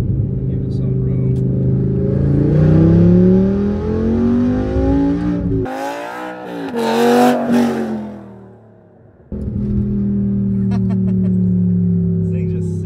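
A 2006 BMW M5 E60 with its V10 engine pulls hard through the gears, its loud, climbing howl rising and dropping at each shift, with someone speaking over parts of the run.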